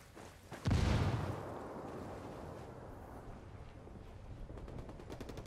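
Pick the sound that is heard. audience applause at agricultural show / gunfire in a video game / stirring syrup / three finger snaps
gunfire in a video game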